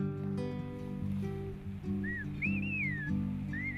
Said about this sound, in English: Whistled speech is a part of the Chinantec language here